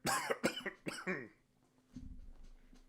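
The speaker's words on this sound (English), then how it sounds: "Didn't mean to cough." A quick series of coughs close to the microphone, followed by a low muffled rustle and faint background hum.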